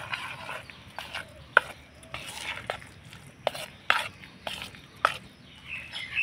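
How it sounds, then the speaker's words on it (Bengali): Food is stirred and mixed in a bowl for a savory breakfast snack, giving irregular close scraping strokes and sharp utensil clinks against the bowl, with no talking. "এবার আমি ভালো করে মিশিয়ে নেব।"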